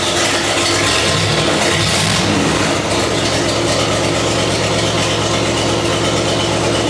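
Engine of a 1956 Chrysler Windsor that had been abandoned, idling steadily after a key start, a loud, close, continuous low rumble with a constant mechanical hiss and no talk.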